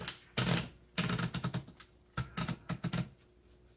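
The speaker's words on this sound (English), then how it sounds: "let's go ahead and do a typing demo" A 1969 Hermes 3000 manual typewriter being typed on: bursts of crisp key strikes in quick runs separated by short pauses, close and clear with no talking.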